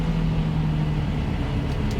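A tractor engine drones in a steady low hum close by, loud and even, with no voices over it.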